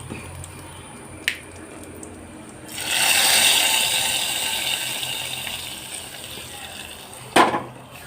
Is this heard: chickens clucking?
no